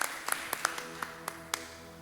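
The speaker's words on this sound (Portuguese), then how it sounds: "Você pode aplaudir Jesus?" A church congregation claps for Jesus during a Portuguese-language service, sparse, loose claps spaced irregularly over about two seconds, fairly close and without talk.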